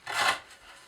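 One quick, close rasping pull of a Zero Tolerance 0301 S30V recurve knife through rope, a loud fibrous swipe that fades within a second.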